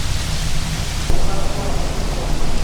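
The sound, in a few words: rain falling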